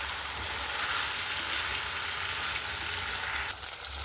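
Chilli chicken frying in hot oil with chicken oil added and stirred, a loud, dense, continuous sizzle that drops slightly near the end, with no talking.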